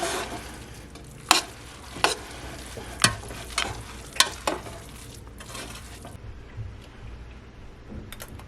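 A spoon stirs freshly squeezed lime juice into a mixture, scraping and clinking against the bowl in sharp strokes about once a second. The strokes then fade into softer, quieter stirring, with no talking.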